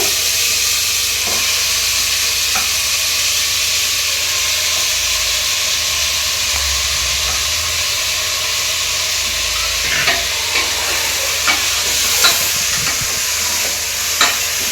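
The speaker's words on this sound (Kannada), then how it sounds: "1/2 kg ಮಟನ್ ಇದೆ. ಹಾಕೋಣ ಒಗ್ಗರಣೆಗೆ." Half a kilo of mutton frying in a hot tempering, a steady close sizzle and hiss with occasional stirring scrapes and spatters toward the end.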